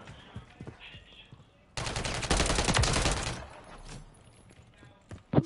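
Call of Duty gunfire erupts in a dense, loud automatic burst lasting over a second, framed by quieter game sounds and scattered impacts, with a sharp thump near the end.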